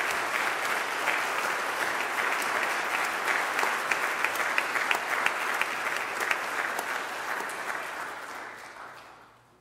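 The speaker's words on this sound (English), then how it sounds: "Let's honor her now with applause as well." Sustained audience applause at a 2016 seminary commencement ceremony, steady and dense throughout before tapering off near the end, with no talking over it.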